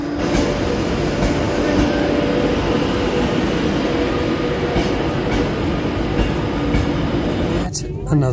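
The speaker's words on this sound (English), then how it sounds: "Another train." A train rumbles past continuously with clattering wheels and metallic rattle, loud and close, with some voices in the background.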